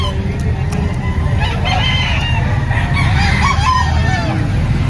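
Chickens and roosters at a busy poultry market in Lipa, Batangas, with a rooster's crow and scattered clucks over a constant, loud crowd murmur and low traffic rumble.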